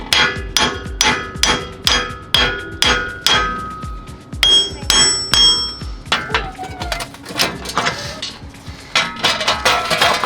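Hammer blows on a Lexus GX470 wheel bearing: a rapid, steady run of loud metallic strikes with ringing overtones, a short pause midway, then more taps, close and clear with no talking.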